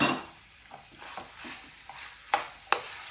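Tomatoes and coriander cook in a pan with a soft, steady sizzle, broken by a few light stirring scrapes and two sharper utensil knocks near the end.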